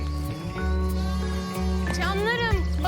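Several sheep bleat on a road in wavering, rising cries that stand out over a steady low hum, with a person talking throughout.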